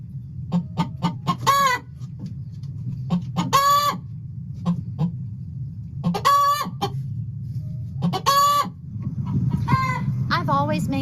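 A hen sings her loud egg song of repeated clucks and rising squawks, given just before or after laying. The calls come in several bursts, close and clear, over a steady low background hum.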